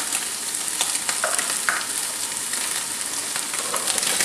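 Peas tumble into a hot pan for a tagliolini dish with zucchini and cooked ham, filling it with loud, continuous crackling sizzle broken by occasional scraping stirs.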